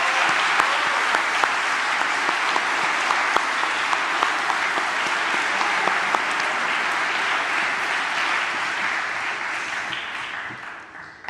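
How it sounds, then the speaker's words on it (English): Sustained applause from a commencement audience honoring a graduating class, dense and steady with scattered sharp claps throughout, fading slightly near the end. "Let's give the graduating class a round of applause."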